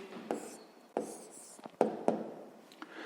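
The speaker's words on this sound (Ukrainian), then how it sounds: "Ну що ж, записуємо тоді відповідь." A pen writing an answer to a sixth-grade math exercise: a few soft, close taps and short scratching strokes on paper, spaced irregularly in a quiet room with no speech.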